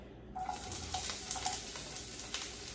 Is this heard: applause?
no